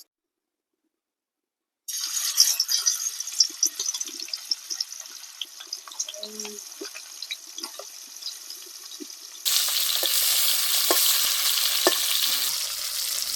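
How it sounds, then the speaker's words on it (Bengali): Marinated pangas fish goes into hot mustard oil in a wok after a brief silence, setting off a crackling, spattering fry that swells into a louder, steady hiss near the end, heard close with no voices. "কড়াইয়ে তেল গরম হয়ে গেছে এবার মাছটা ছেড়ে দিচ্ছি"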